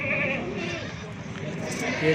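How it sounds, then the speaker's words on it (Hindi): Rajanpuri goats and their kids bleat on a goat farm, wavering cries heard close by against steady background noise and someone talking. "आज आपको असल बकरियां दिखा रहा हूँ, बहुत ही प्यारी और खूबसूरत।"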